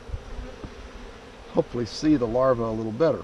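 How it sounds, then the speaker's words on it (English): Honey bees on a hive frame produce a steady close buzzing hum, and a person talks over it for most of the clip. "we're going to get rid of the bees. Just shake them off real quickly."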